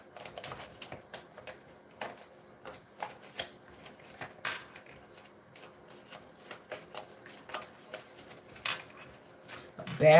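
Rapid flurries of soft papery riffling and clicks, like cards being shuffled, repeating irregularly at close range with faint background noise.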